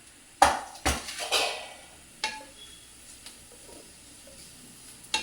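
A spoon scrapes and clatters in a cooking pan as chili powder and coriander powder are stirred into a kidney bean rajma masala, a few sharp clinks up front, then softer scrapes and a faint background sizzle.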